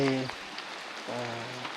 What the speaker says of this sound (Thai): ฝนตกเลยทุกคนวันนี้